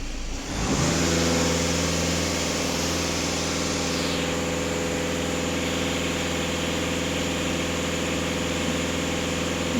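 Volkswagen Scirocco TDI diesel engine, warmed up, held at raised revs after a rise from idle, a loud steady close drone with a clear tonal hum that stays level for nearly ten seconds, with no talking.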